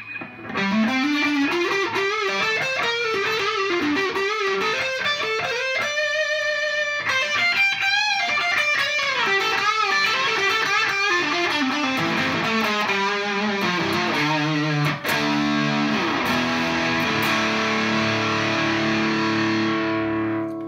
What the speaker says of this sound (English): the Ibanez SD9 Sonic Distortion